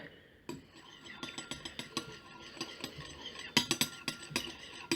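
A spoon scrapes and clinks against a bowl while bath bomb ingredients with essential oil are mixed, giving a close, irregular series of sharp taps and scrapes that grow stronger toward the end.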